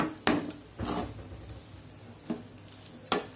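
A spoon scrapes and thumps through a potato mixture for bread balls in a bowl, with a few separate stirring strokes and quiet gaps between them, close and fairly soft.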